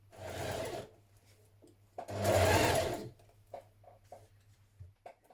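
A sewing machine runs two short bursts along a one-centimetre seam on a knit dress, with soft handling clicks and fabric shuffling between them.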